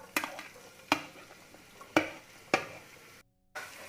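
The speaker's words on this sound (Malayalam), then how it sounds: "ഇനി നമുക്ക് ഈ സവാള ഒന്ന് ബ്രൗൺ കളറാകുന്നത് വരെ ഒന്ന് വഴറ്റി കൊടുക്കാം" Medium onions sautéing with spices in a pan, stirred with a utensil: four sharp scraping clanks spaced about a second apart over a soft sizzle, with a brief silent gap near the end.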